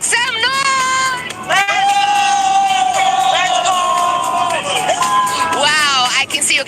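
Loud crowd cheering and whooping fills a Free Fire Max esports grand final watch party in a fan zone, sustained and dense with shouts rising over the roar throughout, no clear speech on top.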